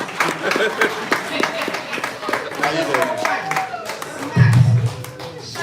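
A brief patter of hand clapping from a small group, mixed with shuffling and thumps, then a louder low rumble at the end.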